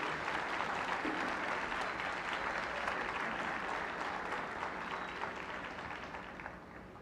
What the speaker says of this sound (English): I want all of the students to give a round of applause to everyone here supporting you